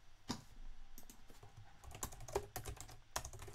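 Typing on a computer keyboard while renaming items in writing software: quick, irregular clusters of close clicking keystrokes with brief pauses, no voices.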